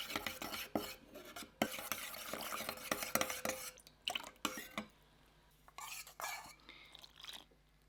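Water poured and stirred with a spoon into a miso and soy sauce mixture for seitan, close scraping and clinking of utensil against a bowl, busy at first then fading to sparse light taps.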